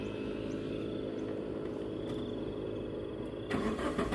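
A Proton Saga FLX fuel pump primes with a faint steady whirring hum in a quiet setting, and a louder broadband burst of noise comes near the end.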